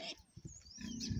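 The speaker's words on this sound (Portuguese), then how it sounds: "Hoje estou aqui mostrando meus porcos." Fattening pigs fed cactus pad and concentrate grunt in a pen, with low snorting grunts and a few higher squeals, close but faint.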